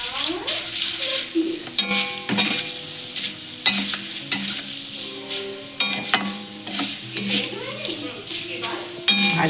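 Homemade potato chips fry in hot oil, a steady close sizzle with frequent metallic clinks and scrapes from stirring in the pan.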